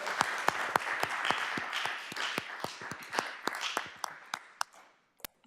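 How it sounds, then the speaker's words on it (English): A room full of people applauding together at a Long Beach Community College District board of trustees meeting, dense clapping that holds steady and then thins out to a few last claps. "So can we give our board a round of applause?"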